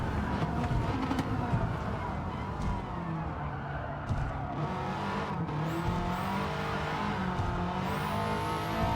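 A 2004 Subaru WRX STI in Gran Turismo 7 at Tokyo, its engine droning steadily at high revs with shifting pitch as it slides through a corner, with tire noise and faint commentary underneath.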